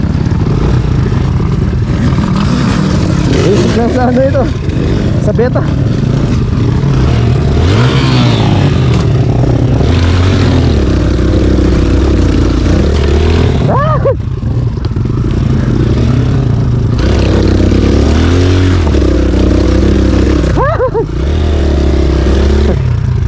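A Kawasaki KLX150 trail motorcycle labors over a rough, rugged mountain trail, its engine revving and surging close by with clattering and scraping, while a rider speaks briefly.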